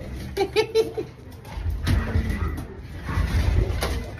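Racing pigeons arriving home at a loft after a race, with soft cooing and fluttering near at hand, a few bird calls early on, then rustling movement and low thumps over background noise.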